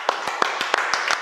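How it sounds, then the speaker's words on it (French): A small group claps in the studio of a French comedy quiz show, several sharp separate claps at an irregular rhythm over about a second, close and fairly loud, with no talking over them. "On peut applaudir Hugo qui part en première phase."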